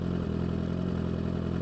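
A Honda CBR1000RR SP1 sportbike engine holds a steady, loud, close mechanical drone with a constant pitch over the short stretch, showing little audible climb in revs.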